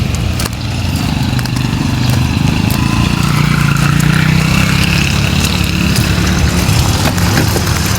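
A motorcycle engine while riding, a steady loud drone with wind rush, running continuously and close without a break, with no one talking.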